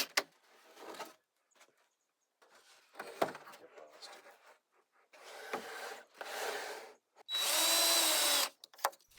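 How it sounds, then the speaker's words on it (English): Power drill driving screws into a wooden corner brace on a homemade bass trap frame, several short whirring bursts with pauses and clatter between them, the last burst loudest and longest, close up. "I drive the screw head down just below the wood surface"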